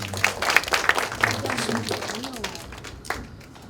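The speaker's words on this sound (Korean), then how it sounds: "박수 한번 하겠습니다" A church audience at a career talk gives a round of applause, a moderate patter of clapping with a few sharper individual claps standing out, while a voice speaks over part of it.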